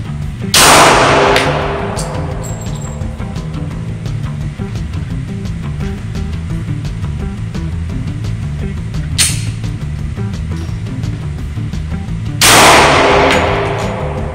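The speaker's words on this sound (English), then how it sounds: "let's get going with some shooting, with the G23 GEN4 up first" Glock G23 Gen4 pistol firing .40 S&W rounds outdoors, three loud, sharp shots spaced several seconds apart with a lingering ringing tail after each.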